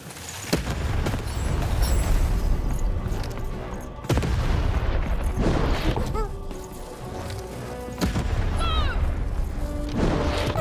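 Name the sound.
cannon firing in a video game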